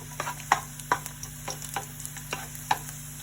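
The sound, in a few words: stir frying spices and garlic in oiled pan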